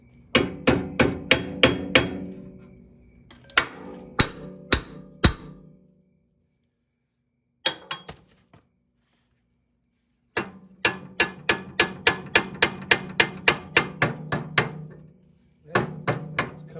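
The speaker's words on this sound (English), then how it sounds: "can you take a hammer and hit it towards the front of the engine?" A hammer strikes a stuck part on a 1967 Detroit engine in bursts of sharp metallic blows, several quick runs of ringing hits separated by pauses, close and loud.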